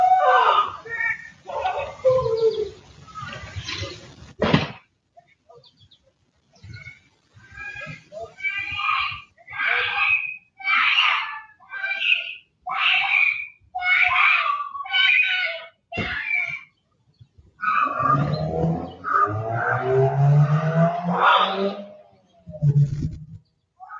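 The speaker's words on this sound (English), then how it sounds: "you can hear the screams in the background." Distant, muffled screams and shouting come in repeated bursts, with a few sharp knocks and loud clatters in between.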